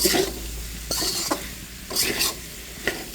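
Potatoes sauté in a pan for a thin hilsa fish curry: a quiet sizzle under a handful of brief metallic stirring clanks and scrapes.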